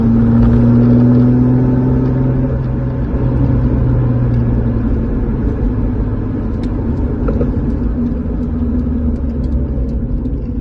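Nissan 300ZX engine, converted from automatic to a manual gearbox, running with a steady loud low rumble and droning tone throughout, no voices present.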